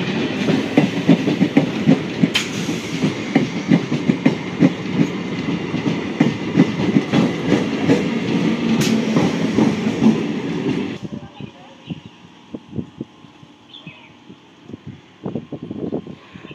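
A 12-coach Sealdah local train rushes past close by with loud, rapid clickety-clack of wheels over rail joints, then cuts off abruptly to quieter scattered clanks and rumble.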